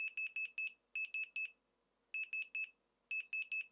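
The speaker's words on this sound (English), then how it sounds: "The multimeter beeps whenever a change in value is detected." A multimeter gives short bursts of bright electronic beeps as its reading changes while testing an eFuse on a breadboard circuit, with four groups of three to four quick beeps separated by brief pauses, clear and alone.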